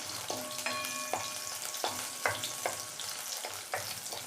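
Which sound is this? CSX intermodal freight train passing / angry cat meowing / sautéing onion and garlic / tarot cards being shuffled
sautéing onion and garlic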